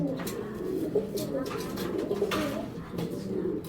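A pair of fancy domestic pigeons coo in a steady run of soft, low, throaty coos close by, with faint voices murmuring in the background.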